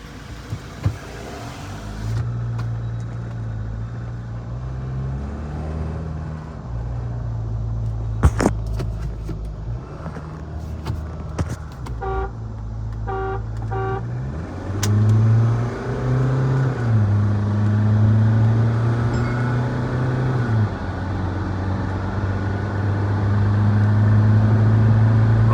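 Ford Endeavour 3.2 and Mahindra Scorpio N diesel SUVs in a rolling-start drag race, engines droning and climbing through gear changes, a sustained rising diesel roar that grows louder toward the end, with no talk over it.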